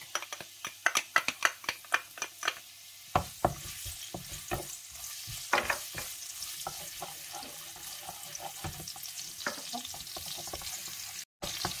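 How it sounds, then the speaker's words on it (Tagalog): Garlic hits hot oil in a kawali, producing a run of sharp crackles and pops at first that settle into a continuous close sizzle with occasional spatters and stirring scrapes; no talking. "So, maglagay na tayo ng oil sa ating kawali. Tapos, ihulog na natin yung ating garlic."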